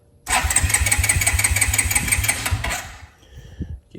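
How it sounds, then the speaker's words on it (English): A 2002 Suzuki King Quad 300 4x4 ATV engine cranks cold with choke on, a rapid rhythmic starter chug for about 2.5 seconds, close and loud, then cutting out to a few faint sputters without catching. "And let's do the start here. It might not start cold."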